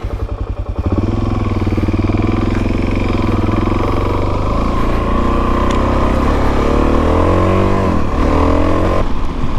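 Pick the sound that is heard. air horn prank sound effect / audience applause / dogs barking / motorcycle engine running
motorcycle engine running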